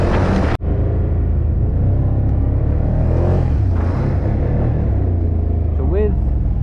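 A Can-Am Outlander Gen 3 quad with an 800 or 850cc, 82-horsepower engine rumbles steadily as it drives over rough terrain, the engine drone loud and close with a brief cutout near the start.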